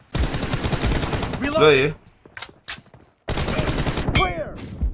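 Rapid gunfire in a mobile shooter game during a one-on-one team deathmatch fight, sharp bursts between and under excited talk from a player.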